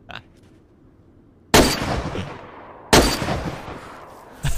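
Two loud, sharp gunshots from a first-person shooter video game crack out about a second apart, each followed by a ringing decay, with a quiet lull before them and a third shot starting right at the end.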